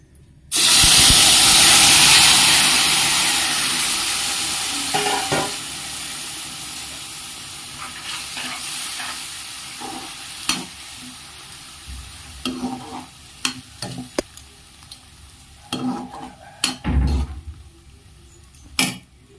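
Tomatoes drop into hot tempering oil for a tomato chutney, setting off a loud, sudden sizzling hiss that slowly fades, followed by close, irregular spoon scrapes and knocks as the pan is stirred.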